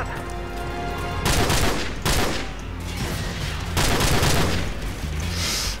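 Video game gunfire from Call of Duty 4: Modern Warfare, dense loud bursts of automatic shots and blasts in repeated volleys with barely any pause, filling the whole stretch.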